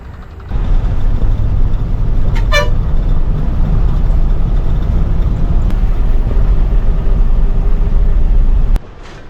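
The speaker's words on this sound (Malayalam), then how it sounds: "കുറേ നേരത്തിന് ശേഷമാണ് ഈ ബസ് വന്നത് കേട്ടോ" A bus pulls up on a road near Bengaluru with a loud, steady engine rumble and road noise, sounding one short horn toot partway through before the rumble cuts off.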